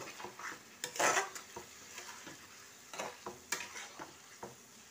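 Chicken is stirred in a pan with the water used for washing chilies, giving a series of scraping utensil strokes and soft clinks over a low sizzle, fairly quiet and close, with no talking.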